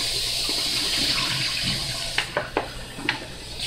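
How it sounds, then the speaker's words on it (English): Tap water runs steadily while an olive can is rinsed out, a soft hissing flow punctuated by several short metallic clinks and splashes near the end. "Rinse the can out."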